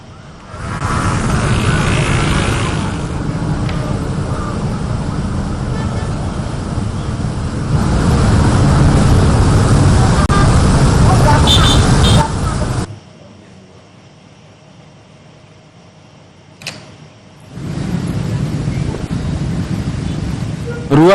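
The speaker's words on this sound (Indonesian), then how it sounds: "Pengendara sepeda motor terpaksa memasuki jalur Transjakarta" Traffic and motorcycles on a flooded road in Jakarta, a loud steady roadway rumble with wind buffeting for about thirteen seconds, a quieter lull, then the noisy traffic returning near the end.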